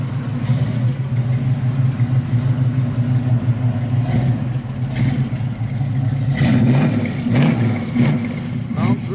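A 1969 Chevrolet Camaro SS 396 with a 4-speed runs outdoors in freezing weather, its V8 holding a deep, rumbling idle with a few blips and swells of revving, close and loud, while someone talks over it.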